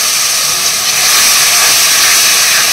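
Ginger-garlic paste and tomato paste hit hot oil with a loud, dense, close sizzling hiss that stays steady the whole time, with no voices.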